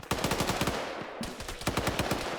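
Automatic gunfire in the military video game Arma 3 crackles in rapid, continuous bursts with dense overlapping shots throughout, loud and close.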